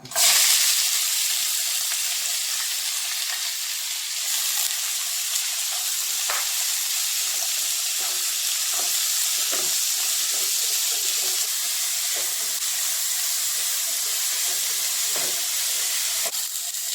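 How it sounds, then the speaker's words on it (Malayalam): Sliced onions and curry leaves fry in hot coconut oil, giving a steady, close sizzling hiss that holds evenly throughout with faint stirring scrapes. "ഉള്ളിയും വേപ്പിലയും ഇട്ട് കൊടുക്കാം."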